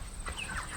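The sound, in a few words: chickens clucking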